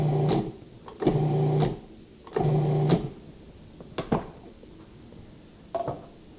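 A stand mixer with repeated whirring bursts of about half a second, separated by short pauses and clinks, as sugar and cinnamon are blended into a cannoli filling.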